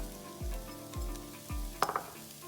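Cooked black beans dropped into a hot pan of curry base, three soft thuds each followed by frying and sizzling, then a brief clink of a utensil, close and moderately loud.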